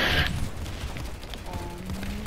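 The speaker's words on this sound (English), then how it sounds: "I got rammed in the ass by a huge light machine gun" Light machine gun fire in the PlanetSide 2 video game: a short, loud burst right at the start, then a rumbling battle backdrop with faint scattered noises and a faint voice.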